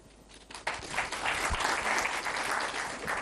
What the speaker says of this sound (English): this one genuinely deserves a clap